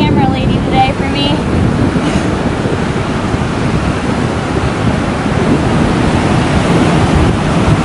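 Strong wind and breaking surf on a beach keep up a loud, steady roar that fills the whole stretch, with no pauses.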